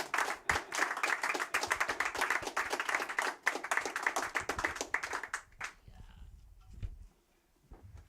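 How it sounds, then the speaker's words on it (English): Live audience applause at a music show as a performer is brought to the stage, a dense burst of many hands clapping that dies away abruptly, leaving quiet room noise and a few scattered claps. "Give her a hearty round of applause."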